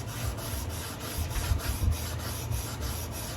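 Sandpaper rubs by hand along a carbon steel knife blade, a close, steady scratchy rasp repeating in even back-and-forth strokes.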